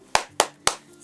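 A tepuk semangat clapping routine from an online preschool class: three bright, evenly timed hand claps close to the mic, each fading quickly before the next, with nobody speaking.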